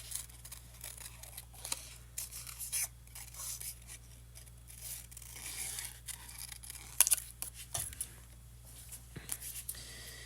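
Small craft snips cut paper up close in quick, quiet snips and rasps, an uneven series of short crisp bursts with no speech.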